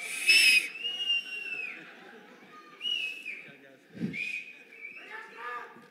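Audience at a film pre-release event whistling: several loud shrill whistles in bursts, some long and sliding, mixed with scattered crowd chatter and a brief chuckle.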